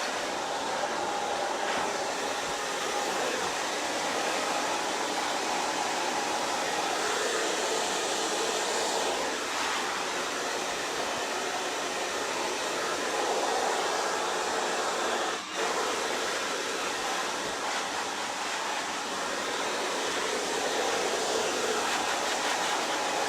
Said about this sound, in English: So as I'm drying, I'm just kind of seeing how my shape is drying.